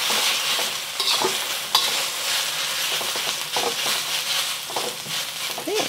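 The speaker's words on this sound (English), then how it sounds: "we're just gonna let this sit for about a minute or two so that we can get some crispiness on the noodles" Noodles fry in a hot wok with a dense, steady sizzle, punctuated by a few louder scraping and stirring knocks as they are moved around.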